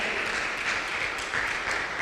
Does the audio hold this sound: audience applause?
yes